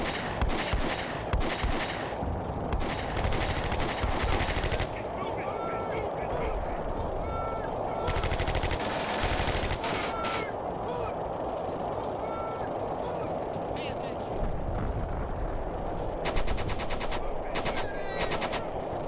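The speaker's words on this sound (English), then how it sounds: "We hear some shooting. Yeah, we're engaged." Gunfire in the Combat Mission: Beyond Overlord wartime strategy game: loud, rapid machine-gun bursts crackle in repeated volleys over a constant roar of battle noise, with someone talking throughout.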